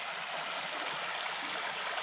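Lick Creek flowing near a washed-out bridge: a steady, close rush of water that holds evenly throughout, with no voices over it.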